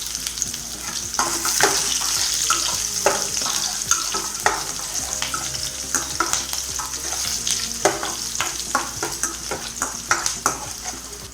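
Garlic pieces fry in a hot pan with a continuous close sizzle. Frequent stirring scrapes and clinks of a utensil against the pan sound over the frying throughout.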